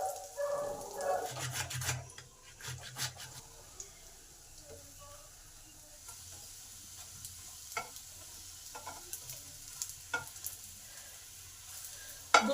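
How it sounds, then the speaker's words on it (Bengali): Cauliflower and egg fritters fry in oil in a pan, a soft, fairly faint sizzle with intermittent stirring and scraping clicks, some louder bursts near the start and end. "দুদিকটা আমার লাল লাল করে ভাজা হয়ে গেছে বড়াগুলো"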